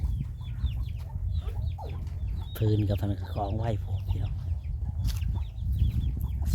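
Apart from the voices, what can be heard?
chickens clucking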